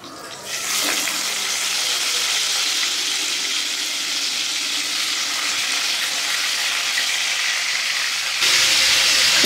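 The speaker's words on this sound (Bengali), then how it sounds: "তো বাকি মাছগুলো ভেজে নিই।" Fish fries in hot oil with a loud, continuous, close sizzle that holds steady throughout and grows slightly louder near the end.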